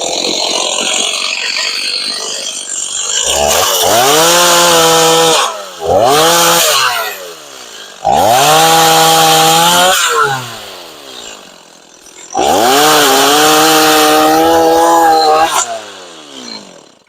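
A loose-chained chainsaw revs in several loud bursts while clearing brush for forestry mulching prep on rural land, each burst rising and falling with quieter gaps between.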